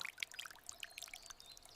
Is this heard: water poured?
yes